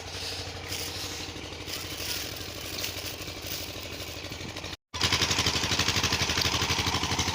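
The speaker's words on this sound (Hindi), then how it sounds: "तकरीबन मगरिब होने वाली है और अभी तक ट्यूबवेल चल रहा है" Village tube well pump engine chugging at dusk, a steady rapid mechanical putter heard at some distance, then suddenly louder and closer after a brief gap.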